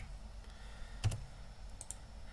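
Keys tapped on a computer keyboard to steer a simulated robot, a faint burst of a few quick clicks near the middle, with a couple of lighter taps just after, over a quiet room hum.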